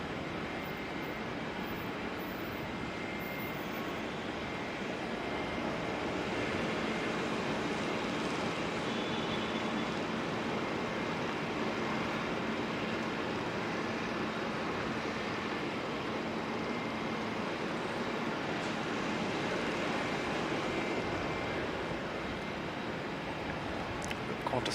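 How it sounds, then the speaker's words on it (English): A Qantas airliner on flight 73 departs Auckland Airport, a steady broadband jet roar heard from a distance that holds constant and unbroken throughout, with no voices over it. "Qantas 73 heading out now, operating back to Brizzy."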